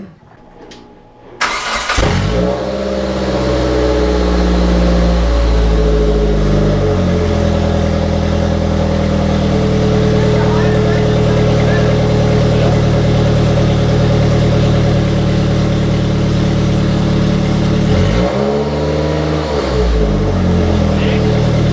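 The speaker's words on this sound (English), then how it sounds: "Dude, start it up now. This is nice exhaust." A race car engine cranks and starts, then runs loudly through a newly fitted exhaust muffler. It idles with a deep steady rumble and blips the throttle near the end.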